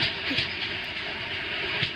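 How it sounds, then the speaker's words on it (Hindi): A train rolling past a railway crossing in the mobile game Indian Crossing 3D, a steady close rumble with a broad hiss and soft rhythmic clacks of wheels over rail joints. "कोई ट्रेन आ रही है हाँ भाई ट्रेन आ रही है"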